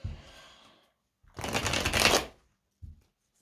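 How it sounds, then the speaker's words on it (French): A sticky deck of cards being shuffled by hand: a soft riffle, then a louder, longer burst of rapid flicking cards, ending with a brief tap as the deck settles, close and clear. "Je vais bien le mélanger parce que les cartes, elles ont tendance un peu à coller."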